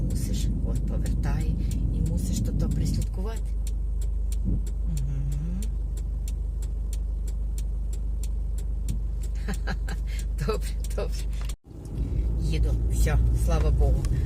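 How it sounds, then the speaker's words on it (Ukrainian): Cars drive past on a rural road at a junction where traffic comes from three directions, loud engine and tyre noise sweeping by continuously, with a brief drop near the end as someone talks over the passing vehicles. "зі всіх трьох сторін їдуть машини"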